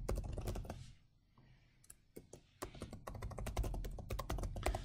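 Quick, close clicking of keys on a computer keyboard while composing an email, in fast irregular bursts with a short pause near the start, quiet overall.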